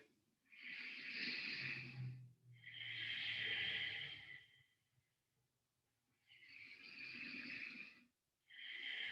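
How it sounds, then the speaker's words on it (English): Slow, deep breaths during a hips and core yoga session, with long airy inhales and exhales in a steady rhythm and short pauses between them, close and quiet with no talk. "Deeply breathing here."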